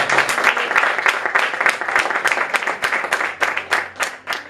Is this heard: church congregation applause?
yes